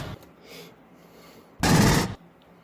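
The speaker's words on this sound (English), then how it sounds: "pulse rifles sound like this." Aliens movie pulse rifle firing effect: a short, loud burst of rapid shots lasting about half a second, preceded by a faint brief pop and quiet background, played back alone without talk.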